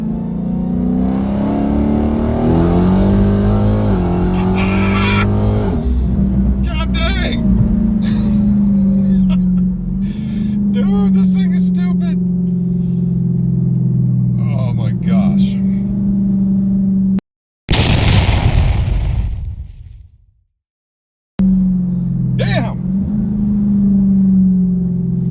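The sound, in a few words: Dodge Hellcat car engine while driving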